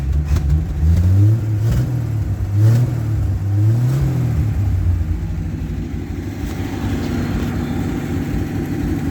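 An engine revs up in several quick bursts, the pitch rising and falling, then settles back into a steady idle; close and loud with no talking.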